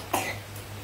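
A single short cough, quiet and close, over a low steady hum in a home on a rainy day.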